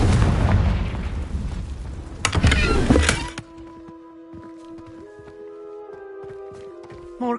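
A Confringo blasting spell explodes in Hogwarts Legacy with a loud, dense boom and rumbling burst that cuts off sharply after three seconds, leaving quiet game ambience with soft tonal music and faint clicks.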